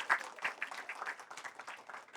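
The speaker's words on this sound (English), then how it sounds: "Everyone, once again, please give a big round of applause" Audience applause after a panel discussion at a conference session on the rule of law. The clapping is short, quiet and somewhat distant, with an uneven patter of hands.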